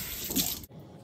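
Tap water pours steadily into a container of wool for its final rinse after dyeing, a close rushing splash that cuts off abruptly partway through, leaving quiet room tone.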